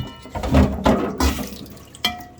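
Dasheen bush leaves rinsed under running tap water in a kitchen sink, with splashing surges of water and handling close by, ending in a small clatter.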